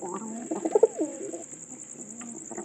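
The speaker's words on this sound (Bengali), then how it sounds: "না আসলে পায়রাটি কিন্তু এরকম করে ডাকে" A pigeon at a pigeon coop gives a few low, rolling coos close by in the first second and a half, then quieter murmuring follows.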